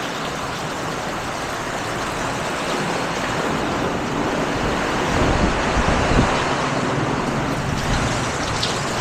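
Strong typhoon wind from Typhoon Paolo roars steadily and loudly as a dense, continuous rush, swelling into heavier gusts midway, with no voices.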